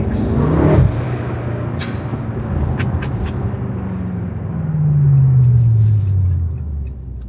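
A BMW F10 M5 pulling under load, a loud close engine and intake roar that rises and falls as the car accelerates, with a brief burst of noise at the start and a strong rising drone later.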